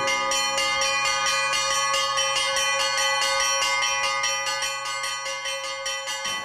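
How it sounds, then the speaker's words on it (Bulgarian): A large two-ton tenor church bell in Shipka rings in a quick, even series of clangs, each strike loud and overlapping the long ringing hum of the one before. "Това тук е двутонната ми камбана тинора."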